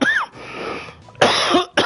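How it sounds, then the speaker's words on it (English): A man coughs, two harsh bursts separated by a short pause and then a third starting, close and loud, with faint background hum between them. "I wish I could get rid of this freaking cough"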